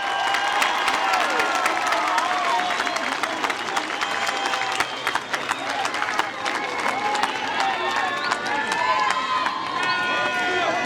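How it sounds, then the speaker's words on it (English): A crowd at a class of 2022 graduation culmination ceremony claps loudly and continuously with scattered cheers and whoops, children's voices and chatter mixed into the dense applause. "Can you please give them a round of applause?"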